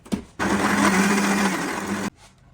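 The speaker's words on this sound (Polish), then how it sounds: "I to muszę też zblendować." An electric kitchen blender whirs steadily for under two seconds, blending onion with a little water into a glaze for grilled pork ribs, loud and close with no talking.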